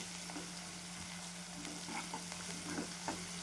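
Onions and spices fry in oil while being stirred for a Vidarbha-style fresh pigeon pea (turi) amti. A steady, close sizzle runs throughout with occasional light scrapes of stirring, and no one speaks.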